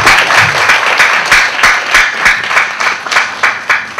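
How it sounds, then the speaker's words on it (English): An audience claps at a spiritual healing talk, loud and close, a rhythmic clapping that fills the room steadily throughout. "So give yourselves a clap."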